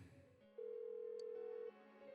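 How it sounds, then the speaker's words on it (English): An unanswered telephone ring from the video game Persona 4 Golden, a single clean electronic tone held for about a second, fairly quiet and alone. "Why won't she pick up the phone?"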